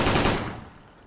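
A short, loud burst of G36C machine gun fire in the Special Force shooting game, rapid shots packed into half a second, then a quick decaying echo.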